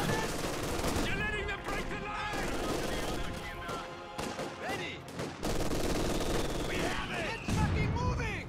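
Company of Heroes 2 battle with machine gun fire and scattered gunshots crackling steadily under overlapping talk, dense and continuous with brief dips.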